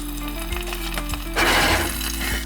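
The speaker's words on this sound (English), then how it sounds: "which is just slowly frying with the garlic" Spinach sizzles with garlic and dried fruit in a pan, a soft steady frying hiss that swells brighter midway, over a low constant hum with no voices.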